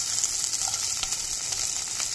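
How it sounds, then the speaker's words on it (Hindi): Boiled potato fries in a pan with peanuts and cumin, a dense, even sizzle that holds steady throughout, close and moderately loud, with faint stirring taps. "अब हम डाल देंगे इसमें उबला हुआ आलू"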